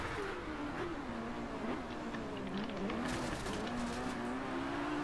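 Engine note from a racing video game car with sampled engine audio and manual gears, a steady rising and falling revving drone that runs continuously and fairly loud, with faint tire noise mixed in.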